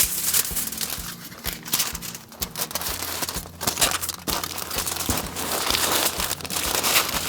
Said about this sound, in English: And then you're going to wrap it in foil.